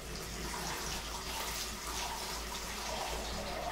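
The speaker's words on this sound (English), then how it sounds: "this is going to be a real quick shot of water" Water from a tap runs in a steady, continuous stream over a sword blade as it is quickly rinsed, a close, even splashing wash with no talk.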